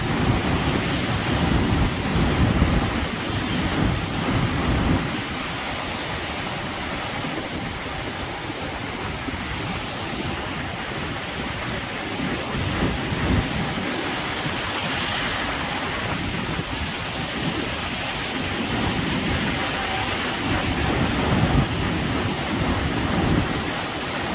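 Water surges through the fourth open gate of the Kosi barrage, a loud, steady roar of churning flow that holds unbroken and dense throughout, with no voices.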